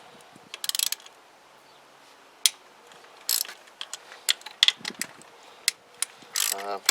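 Socket ratchet loosening the oil drain bolts on a Zontes Tiger 125 motorcycle, a close series of short clicking ratchet bursts with pauses and metallic handling between them.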